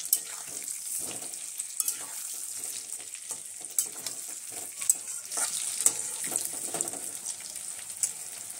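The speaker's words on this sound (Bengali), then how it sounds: "এই অল্প একটু কাশ্মীরি লঙ্কার গুঁড়ো দিয়ে আমরা ভালো করে আলুটাকে ভেজে নেব" Potatoes fry with a little Kashmiri chilli powder for a chicken biryani, giving a steady, quiet sizzle with scattered crackles and occasional stirring clicks, no voices.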